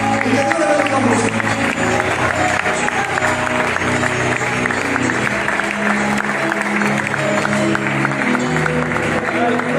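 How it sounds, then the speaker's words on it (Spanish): Loud, sustained applause from a church congregation fills the whole stretch, with crowd voices mixed into the dense clapping. "Fuertes aplausos, iglesia"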